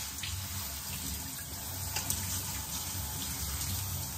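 Water runs steadily from a kitchen tap in a home kitchen, a continuous even hiss lasting the whole stretch with no pauses or voices.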